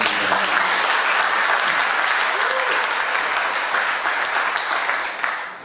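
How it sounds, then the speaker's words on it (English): Sustained audience applause fills a city State of the City address in Lake Worth, a dense, steady wash of many hands clapping at even loudness that tapers slightly near the end. "we should all give ourselves a round of applause."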